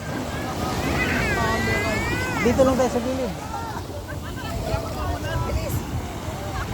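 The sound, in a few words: strong sea waves at a beach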